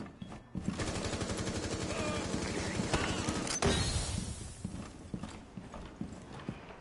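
Rapid enemy gunfire in Rainbow Six Siege, a dense stream of close, sharp repeated shots for several seconds, tailing off into scattered bursts and clatter.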